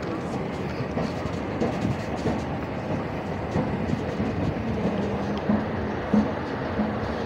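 A train runs through the station area, giving a steady low rumble with faint rhythmic clatter from the wheels and a few brief squeals, moderately near and continuous throughout.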